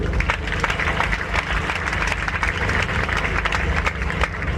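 Audience applause at an International Education Day address by a president, sustained dense clapping from a large crowd, loud and steady throughout, no speech over it.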